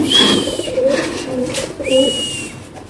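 Pigeons kept for sale by a breeder give soft, close throaty coos in two short bursts, with faint high whistling tones and light ambient noise around them.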